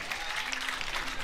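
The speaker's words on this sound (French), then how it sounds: "On peut encore une fois les applaudir s'il vous plaît" Audience applause after an amateur combat-sport bout, a steady wash of clapping heard briefly at moderate level with no pauses.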